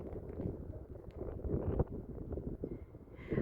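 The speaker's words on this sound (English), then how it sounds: "though the wind is a lot" Gusty evening wind buffets the microphone in an open field, a steady low roar with rising and falling surges and faint rustling, no voices.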